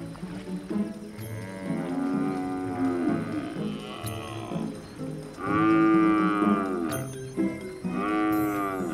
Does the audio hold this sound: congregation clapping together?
no